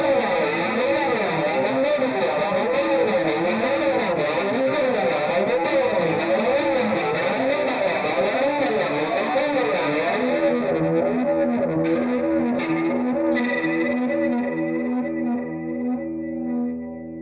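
Electric guitar through a Fulltone Choral Flange analog chorus and flanger pedal with the modulation rate pushed to its fastest, a sustained distorted chord swirling in rapid sweeps, loud and close, then fading out near the end.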